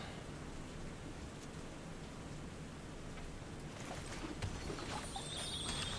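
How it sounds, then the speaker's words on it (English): Steady rain hisses continuously, a dense wash of drops that swells slightly toward the end, with no voices. "It's raining hard. Raining hard today."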